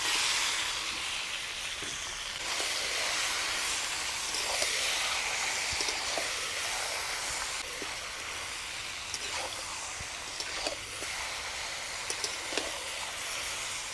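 Marinated Kadaknath chicken meat sizzles with softened onions in a hot pan in a village-style kitchen, a steady loud hiss of frying with scattered small pops and crackles throughout, no talking.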